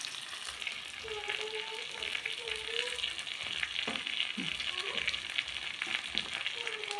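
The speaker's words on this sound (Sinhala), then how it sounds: "මාළු මිරිස් ටිකක් දාලා හොඳට කලවම් කරගන්න ඕන" Chicken devil with chili cooks in a pan, giving a steady, close sizzle and frying hiss throughout, with occasional scraping stirs and clinks of a spoon.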